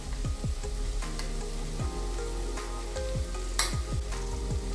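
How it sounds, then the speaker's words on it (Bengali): Ginger, onion, garlic and ground spices frying in a pan, with repeated spatula stir strokes over a steady close sizzle and one brief bright clatter. "আদা, পেঁয়াজ, রসুন সমস্ত কিছু কিন্তু ভালোভাবে ভাজা হয়ে গিয়েছে"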